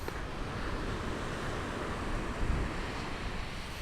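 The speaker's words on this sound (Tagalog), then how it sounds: "Umuulan." Steady roar of heavy typhoon wind and rain on the coast of Occidental Mindoro, a dense continuous rush with no pauses, fairly close and even in loudness.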